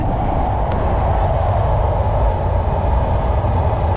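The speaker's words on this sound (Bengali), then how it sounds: "দেখতে পাচ্ছেন পদ্মা ব্রিজের নিচ দিয়ে ট্রেন কিন্তু যাচ্ছে" A train passing beneath the Padma bridge at Mawa, a loud, continuous low rumble that holds steady and close throughout, with no speech.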